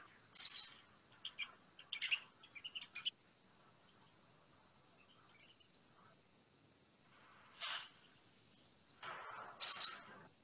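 Faint, scattered chirps and quick buzzy zip notes from a small bird in a Santa Fe backyard, arriving in short bursts separated by several seconds of near silence.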